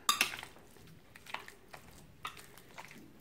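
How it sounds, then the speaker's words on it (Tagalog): Chilled chicken longganisa sausage mixture is mixed in a bowl. Faint, scattered clinks and scrapes of a utensil against the bowl, with soft squishing between them. "Yan, haluin lang natin mabuti."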